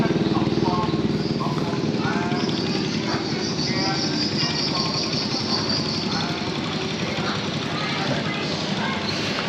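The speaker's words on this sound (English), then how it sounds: "Even with the guy riding past with the megaphone" A motorbike rides past on a street in Kampot, Cambodia, its steady engine drone joined by a megaphone announcement, loud and continuous throughout, with voices talking over it.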